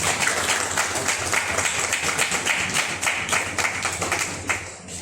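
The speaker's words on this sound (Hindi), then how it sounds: "जोरदार तालियों के साथ" Dense, steady applause from an audience at an award ceremony during a clean-energy seminar, with many hands clapping together at a fairly even level for several seconds before thinning out at the end.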